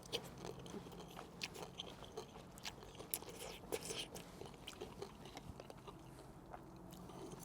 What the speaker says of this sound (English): A couple spots were a little crunchy there, but I mean, it tastes like ramen.